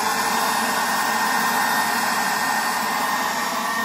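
A cordless MZK leaf blower on 20V batteries runs steadily with its trigger locked on, a loud continuous airy whoosh holding an even level from start to finish with no talking.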